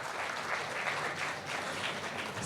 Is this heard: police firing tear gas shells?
no